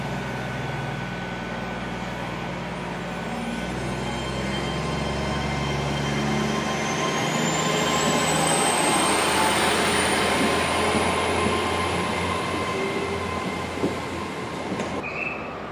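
A diesel HST train pulling away toward Cardiff, its engine droning steadily under a continuous loud rumble of wheels on rail, with a rising high-pitched squeal and whine building as it gathers speed, heard close by.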